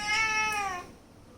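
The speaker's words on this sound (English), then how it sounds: "So these are my granny's kitties." Three pet cats belonging to a grandmother, named Cowbell, Snowpuff and Smokey, let out a single clear, drawn-out meow up close that tapers away into quiet.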